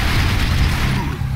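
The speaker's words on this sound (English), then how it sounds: "They're shooting a guy out of the freaking Turo cannon." Cannon blast in the video game Broforce, a loud, dense booming roar with rumbling low end and crackling bursts, filling the whole moment with no pause.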